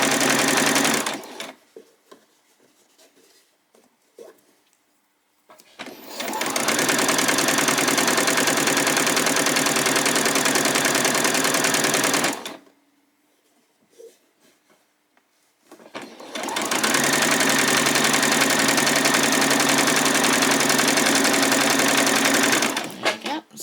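A sewing machine runs a straight stitch along a doll's skirt in two long, loud, steady whirring bursts, each several seconds long, separated by quiet pauses with handling noises and brief talk.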